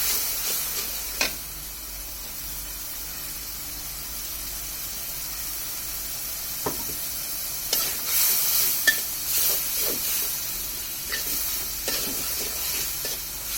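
Dried fish sautéing in a spice paste for a mola shutki dish, a steady sizzle and hiss with occasional stirring scrapes and clicks of a utensil against the pan.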